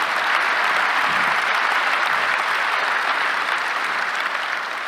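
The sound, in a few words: audience applause at business conference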